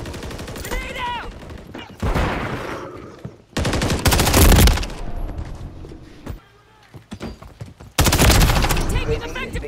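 Gunfire in Call of Duty MW3 multiplayer: loud bursts of automatic fire and shots come in waves, with a quieter stretch in between and heavy firing returning at the end.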